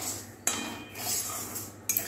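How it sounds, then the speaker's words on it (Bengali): A metal spoon stirs semolina in a pan for upma, giving soft close scraping broken by two sharp clinks against the pan, with no talking. "তারপর সুজিটা নাড়া হচ্ছে"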